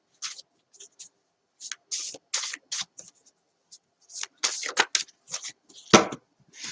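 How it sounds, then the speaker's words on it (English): Playing cards are shaken and shuffled close by, producing irregular bursts of papery rustling and flicking with short pauses between, plus one sharper snap near the end. "I'm just shaking the cards up."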